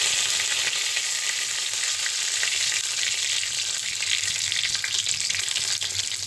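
Steady, loud sizzling of bay leaves frying in hot oil, a dense crackling hiss running throughout with no voices.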